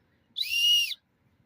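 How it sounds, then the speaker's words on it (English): A single short, shrill blast from the whistle on a multi-tool spork, high-pitched and steady for about half a second, in an otherwise quiet setting. "It also has a whistle."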